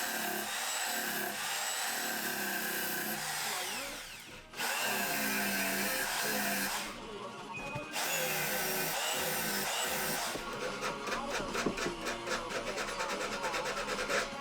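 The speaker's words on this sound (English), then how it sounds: "I could level the legs using my electric file to remove any wobble." Electric file working on the legs of a wooden nightstand, leveling them to remove wobble; a steady loud buzzing grind runs with a brief pause near the middle, then turns rougher and more uneven toward the end.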